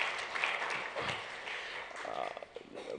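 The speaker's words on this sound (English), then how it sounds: "they really deserve a big round of applause" Applause from a conference audience, faint and somewhat distant clapping spread across the room, steady but low, with a bit of background murmur.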